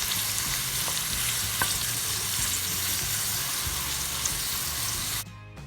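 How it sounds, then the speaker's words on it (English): Onions frying in palm oil for a local dawadawa jollof rice crackle with a dense, steady sizzle, close and continuous with faint stirring, then the sound cuts off abruptly near the end. "I'll let this fry until it's nice and translucent"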